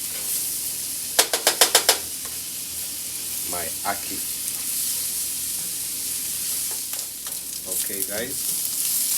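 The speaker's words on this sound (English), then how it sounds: "So I'm just going to make my seasoning cook, and then I add my ackee." Jamaican ackee seasoning sizzles and is stirred in a pan, with a steady frying hiss, brief rapid clicks early on and a short spoken remark near the start.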